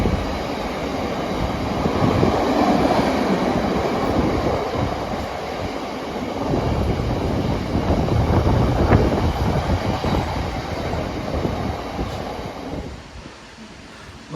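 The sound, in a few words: freight train passing at East Midlands Parkway station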